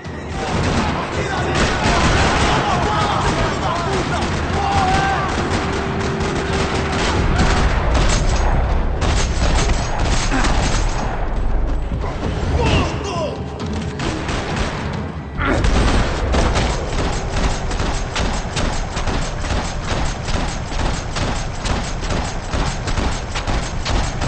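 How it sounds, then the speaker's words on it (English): Dense video-game gunfire in a parking lot in Max Payne 3, rapid automatic bursts and single shots crackling through most of the stretch, with dull booms and brief pauses between volleys. "Another parking lot rattling with gunfire."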